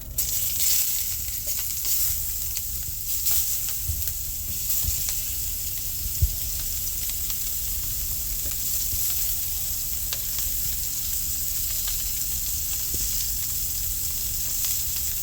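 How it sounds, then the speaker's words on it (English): Chopped onion sautés in oil in a skillet, giving a steady, close sizzle and hiss with occasional faint stirring clicks, unbroken and without talk. "what we're going to do is we're going to saute this onion"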